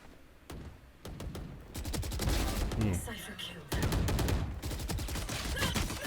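VALORANT gunfire, including pistol shots, cracks out in rapid, dense bursts of repeated sharp shots, loud and close, with a brief pause partway through before the firing resumes.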